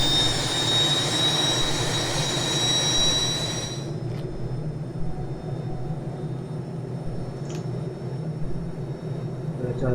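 An Aérospatiale SA315B Lama helicopter turbine idles in a flight simulator game, a steady whining engine drone whose high tones drop away partway through, leaving a lower, even hum with faint clicks.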